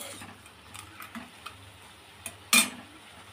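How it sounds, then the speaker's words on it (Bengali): Fish head curry with fried fish eggs and oil is sautéed in a pan, giving a faint sizzle broken by light ticking taps of a spatula and one louder scrape near the end. "ভালো করে আমি আবারও কষিয়ে নেব সুন্দর করে।"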